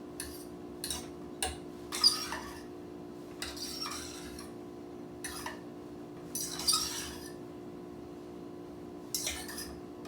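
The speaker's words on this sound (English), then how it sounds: "we're going to fork the rice" A fork fluffs cooked rice pilaf in a saucepan, making a series of quiet, separate metallic clinks and scrapes against the pan spread over several seconds.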